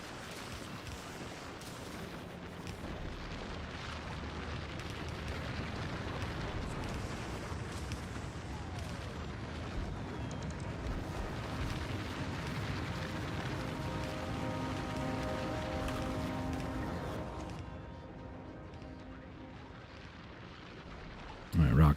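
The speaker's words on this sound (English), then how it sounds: "Alright, rockets are being sent up." Rockets launching in Factorio Space Age make a steady, dense roaring rumble that builds and holds for about seventeen seconds, then thins out as the launches fade.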